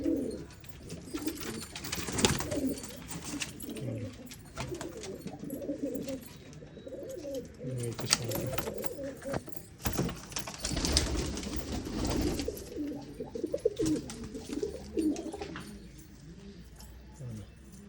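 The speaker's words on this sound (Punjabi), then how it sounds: "ਗੋਲਡਨ ਕਬੂਤਰ ਹੈ ਸਾਡਾ" Golden domestic pigeons coo in soft, repeated rounded calls at close range, with occasional light metallic clinks over a low, busy background.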